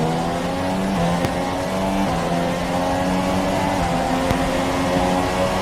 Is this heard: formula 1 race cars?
yes